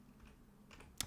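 A computer keyboard being typed on while entering a texture name gives a few faint, quick keystroke clicks near the end of a quiet stretch.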